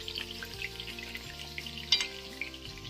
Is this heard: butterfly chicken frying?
yes